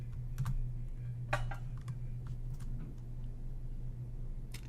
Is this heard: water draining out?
no